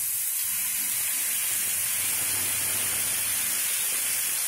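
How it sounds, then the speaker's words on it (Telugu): Cucumber pieces frying in two spoons of oil in a pan, giving a steady, even hiss and sizzle that holds at a constant level throughout. "దోసకాయల్ని ఇలాగ ముక్కల్ని వేయించుకుందాం."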